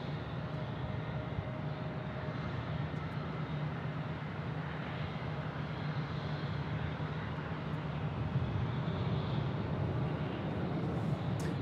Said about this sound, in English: Citation Latitude from Bozeman